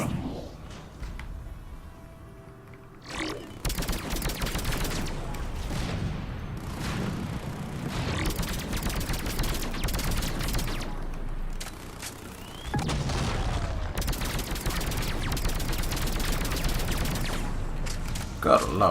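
Rapid gunfire and heavy impacts from a firefight at a Cerberus fighter base in the PC game Mass Effect 3, dense bursts of shots and booms running almost continuously, with a brief lull before the shooting resumes loudly.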